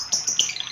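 A lovebird chirps in short, bright, high tweets, close and clear, in a quick run of calls with no talk.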